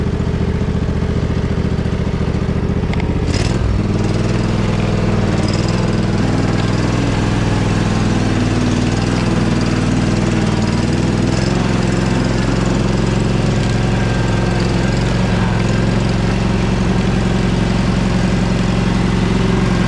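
An old Husqvarna riding lawn mower's engine runs steadily and loud while mowing through snow, a continuous close drone with a brief bump near the start and no talk.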